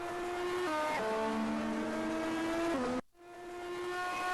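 A ChampCar race car in a ChampCar video game race on the Las Vegas street circuit drones through a corner, its engine pitch stepping down as it brakes and shifts, then cutting out briefly before returning steady.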